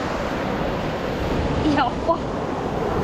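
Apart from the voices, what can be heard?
ocean waves at Majali beach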